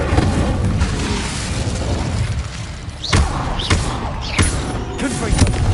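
Spell effects from the Hogwarts Legacy video game, with an Incendio fire spell cast among them: several sharp whooshing bursts with thuds land about every half second in the second half, over a steady bed of game noise.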